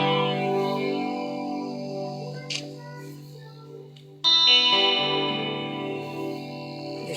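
Sustained electric guitar chords ring out through a Donner tremolo effect pedal's wavering effect, with a louder fresh strum midway that keeps sounding to the end.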